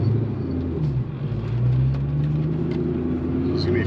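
Inside the cabin of an 800HP Cobra on the road, a low, steady engine and road rumble swells slightly midway, with a voice briefly audible.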